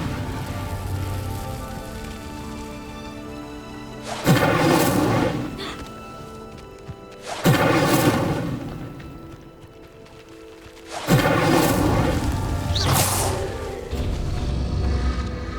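Incendio fire spell lighting a pyre in the video game Hogwarts Legacy, heard as three loud, crackling fiery bursts spaced a few seconds apart over steady game music.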